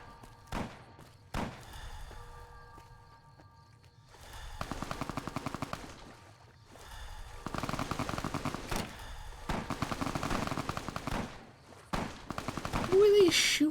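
Gunfire in the Fallout: New Vegas video game plays as sharp single shots followed by sustained rapid automatic bursts in several long volleys, fairly loud, with gaps of quieter ambience between them.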